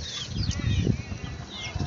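Chicks on a rooftop peep in high, thin calls over a noisy outdoor background, with rustling and scratching.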